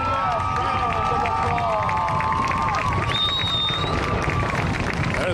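Crowd at a high school football game, Floydada Whirlwinds vs. Smyer Bobcats, cheering and applauding the homecoming court as a steady wash of noise, with a band playing and scattered shouts over the top.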